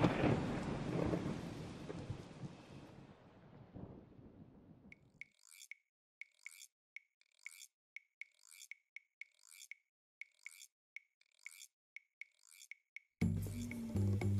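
A heavy thunderstorm opens with a loud, rolling thunder rumble mixed with rain hiss for several seconds. Then it falls quiet apart from a regular series of short, high chirps, before a final burst of noise.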